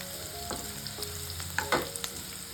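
Chopped onions sautéing in a pan, a close steady sizzle with a few spatula scrapes and stirs over a short stretch, nothing else audible.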